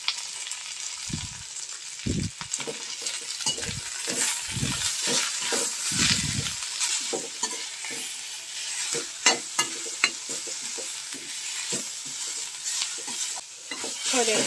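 Moringa leaves frying in a pan, a constant close sizzle broken by repeated scraping strokes of a spatula stirring, with a brief spoken phrase in the middle.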